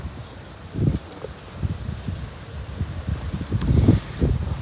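Heavy gusts buffet the microphone in low, irregular thumps, with a constant rushing of strong wind outdoors on the trail to Hole in the Rock, and no voices.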